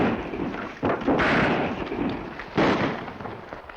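Gunshots ring out in a western TV show, several sharp bangs and cracks with echoing tails over a dense, noisy background, fairly loud and close.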